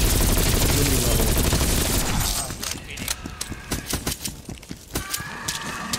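Video game gunfire: a dense, loud burst of rapid shots for about two seconds, then scattered sharper single shots and impacts in irregular succession.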